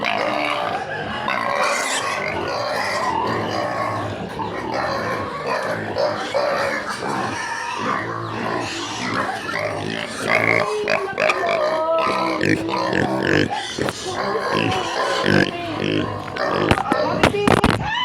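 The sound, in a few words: pigs grunting and oinking at feeding time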